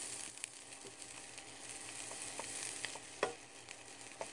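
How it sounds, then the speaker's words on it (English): Onions sautéing in a pan on a Fagor portable induction cooktop, a steady close sizzle with light crackles and a few sharp pops, no voices. "First, we're going to add our onions. And we just need to cook them for a minute or two so they get slightly softened."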